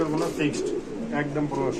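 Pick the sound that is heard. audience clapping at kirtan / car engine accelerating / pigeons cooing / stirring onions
pigeons cooing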